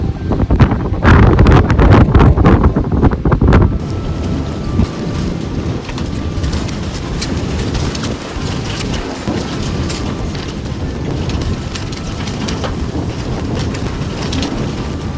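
Intense spring storm on a farm, with heavy rain hiss and buffeting wind gusts rumbling against the microphone, loudest and most violent in the first few seconds before settling into a steady, dense downpour.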